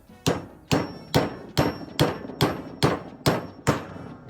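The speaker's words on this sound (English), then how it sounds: "And just tap it back in. For this, I'm using a 15mm socket." A hammer taps a 15mm socket to seat the throttle spindle bearing of a Dellorto DLRA 45 carburetor: nine sharp, evenly spaced metallic knocks, close and fairly loud, each with a short ringing tail.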